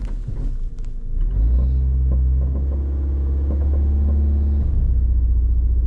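A 2013 Toyota Corolla engine runs with a misfire on cylinder 3, a loud, close, low rumbling idle that drops and roughens after a second, with an uneven pulsing throb and no talk.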